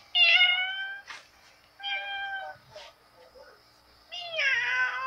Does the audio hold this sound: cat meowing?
yes